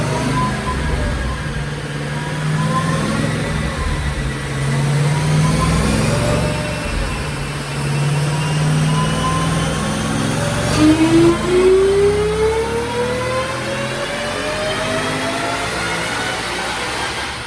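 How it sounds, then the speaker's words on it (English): A supercharged 2017 Mustang GT, Gen 5 Whipple Stage 1, roars loudly on a dyno pull at Brenspeed, its engine pitch climbing steadily through the revs with a whining supercharger tone running over the top. "So watch this dyno pull, let's see what it makes."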